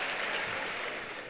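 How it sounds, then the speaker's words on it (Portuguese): Brief burst of audience applause at a Christmas comedy show, a dense wash of clapping lasting just over a second. "uma salva de palmas para o Rui"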